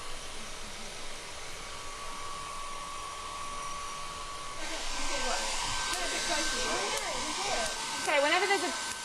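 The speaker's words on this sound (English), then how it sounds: "use a hairdryer which will dry out" A hair dryer blows a steady, loud rush of air near a belt in a static electricity demonstration, running continuously with a person talking over it.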